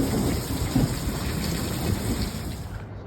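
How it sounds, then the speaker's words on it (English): A thunderstorm at an outdoor long-range rifle shooting range during F-Class nationals, with steady heavy rain and rolling thunder filling the whole stretch, loud and close with no voices. "Lightning, thunder, the whole 9 yards."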